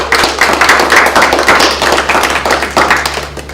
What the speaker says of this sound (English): can we give them all a little bit of applause?